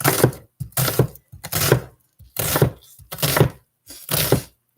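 A knife chopping sweet onions on a board, sharp close thunks in quick bursts of several strokes separated by short pauses.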